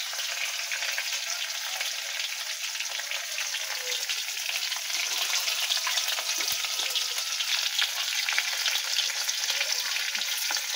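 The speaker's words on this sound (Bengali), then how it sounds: "এবার ভেজে নেব।" Chopped banana flower and shrimp sizzle in hot oil in a pan, a constant bright crackling hiss that runs steadily with no voices, only faint occasional spatters and stirring noises beneath.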